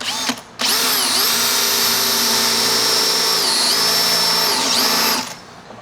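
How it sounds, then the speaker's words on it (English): A power drill whirs loudly and steadily for about five seconds while boring a hole in a boat, its pitch dipping briefly under load, then stopping. "Run a big drill down."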